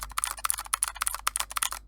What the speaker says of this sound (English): You've got a keyboard and it probably sounds like this.